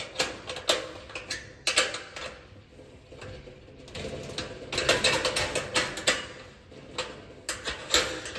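Ratcheting spanner tightening bolts while assembling an Astra greenhouse, giving bursts of quick mechanical clicks in uneven runs, fairly close, with pauses between turns and no talk.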